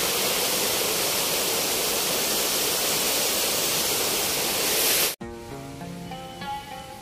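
Artificial waterfall at Jaydev Vatika garden in Bhubaneswar, a steady loud broadband rush of falling water for about five seconds, then cutting off abruptly to quieter background sound.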